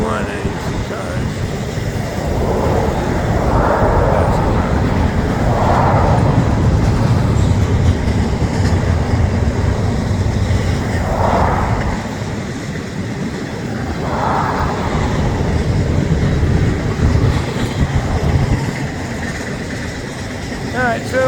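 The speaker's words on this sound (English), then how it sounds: "Normal size train, not a giant train by standards of late, but good sized train" A normal-size freight train passing near Route 1 in Bayard, a long steady rumble of rolling cars with faint rhythmic clatter, moderately distant and continuous throughout.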